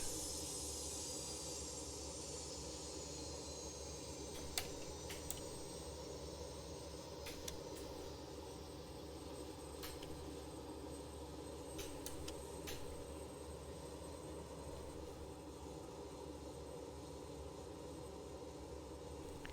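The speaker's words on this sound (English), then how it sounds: "If I go outside, let's see those engines wind down." BAe146-100 jet engines wind down in the X-Plane 11 flight simulator, a faint, steady low whine and hum with fading high-pitched tone early on and a few soft clicks.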